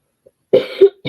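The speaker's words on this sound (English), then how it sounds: "this cough needs to go away" One person gives a short, close, loud cough in two quick bursts after near silence. A third burst starts just at the end.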